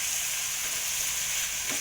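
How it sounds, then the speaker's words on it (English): Keema frying in a pan while being stirred, a close, steady sizzling hiss that runs evenly throughout with a faint scrape near the end. "I am stirring the keema"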